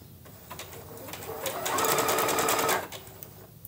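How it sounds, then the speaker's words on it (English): Sewing machine stitching through Skyline fabric on a cloth bag appliqué, a brief run of rapid, close mechanical stitches that speeds up and then stops, with quiet room noise before and after. "I'm going to stitch one more time so that the needle's on the left hand side"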